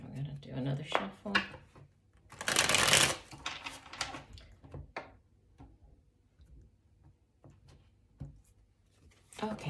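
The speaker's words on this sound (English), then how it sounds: "we're going to do another shuffle" A deck of tarot cards is shuffled at a reading: a loud, close, papery riffle bursts out briefly, surrounded by softer taps and card handling noises.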